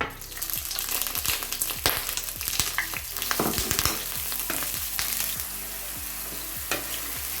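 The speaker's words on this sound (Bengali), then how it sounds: "এটাকে একটু ভালো মতো আমি এটাকে ভেজে নিব কাঁচা গন্ধটা চলে যাওয়ার জন্য।" Onion paste cooks in hot oil with cinnamon and cloves, giving a steady sizzle broken by repeated scraping stir strokes, close and moderately loud.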